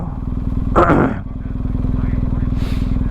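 An adventure motorcycle engine runs steadily near the microphone, giving a continuous pulsing throb, while someone speaks briefly over it and a second short voice follows.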